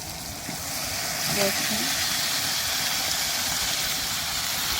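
Beef pieces dropped into hot spiced oil in a village cooking pan, producing a loud, steady sizzling hiss that runs throughout, with a brief spoken word near the start.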